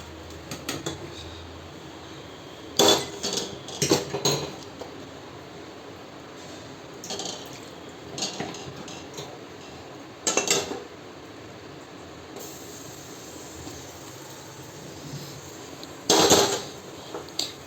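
Puffed rice (muri) mixed with ghugni and cucumber being eaten from a bowl, with several short crisp crunching and clinking bursts spaced apart over a quiet room background.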